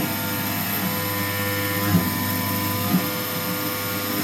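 CNC end mill cutting Nitro-V stainless steel on a Langmuir machine, a continuous close whining hum with steady tones and two brief louder blips partway through.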